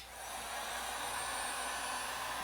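A hair dryer runs steadily in a violinmaking workshop, a constant close whooshing blow that holds at one level from start to finish, with no voices.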